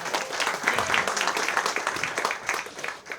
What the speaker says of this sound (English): can we have a round of applause for how well he's doing with the Game Boy so far?